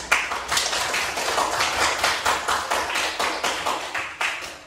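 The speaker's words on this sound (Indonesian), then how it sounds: "Kalau puas, coba tepuk tangan." A classroom group of students clapping hands together in quick, dense, rhythmic applause, close and fairly loud, with no talking over it.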